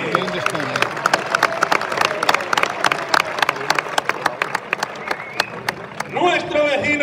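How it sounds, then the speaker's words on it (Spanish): Crowd applause at a bullfighting cutting contest (concurso de cortes) in Mayorga, 2023: dense, steady clapping from many people fills the arena, with an announcer's voice rising over it near the end. "¡Ese aplauso fuerte!"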